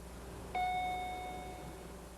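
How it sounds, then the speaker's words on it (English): Speed limit warning chime in a 2001 BMW 3 Series: a single clear electronic ding-dong tone that rings out and slowly decays over a quiet cabin hum. "You will hear a chime when you exceed this limit."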